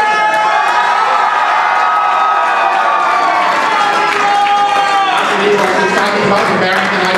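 A crowd cheers and whoops loudly and without a break for quiz contestants, with young voices shouting in the mix.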